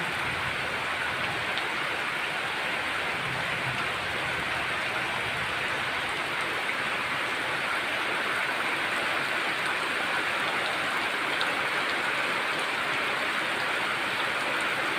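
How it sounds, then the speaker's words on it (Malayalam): Steady rain falling, a dense, even hiss of drops on surfaces that continues unbroken at moderate volume with no talking. "മഴ വീണുപോയി കണ്ടോ മഴവെള്ളം"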